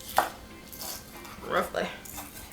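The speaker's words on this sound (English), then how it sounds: "We'll also chop up some green onions." Green onions chopped roughly with a kitchen knife on a board, a few separate nearby knife strikes spread across a short stretch, with light kitchen handling noise around them.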